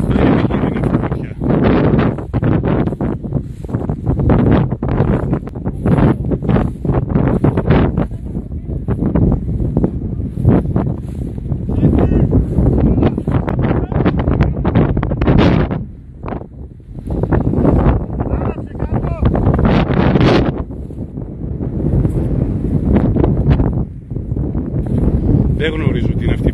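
Strong wind buffets the microphone in loud, continuous roaring gusts near a wildfire outside Kila, Kozani, with brief lulls between blasts and a voice speaking underneath.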